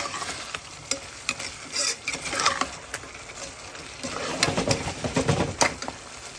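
Potatoes cook down in a pot for Guyanese cassareep chicken, with repeated close spoon scrapes and stirring knocks over an uneven sizzle that swells louder toward the end; no one speaks.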